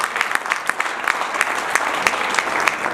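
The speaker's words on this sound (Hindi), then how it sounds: "एक बार जोरदार तालियों से मुझे आदेश कीजिएगा" Loud, dense applause from an audience at an official-language day event, steady rapid clapping from many hands filling the whole stretch without any talk.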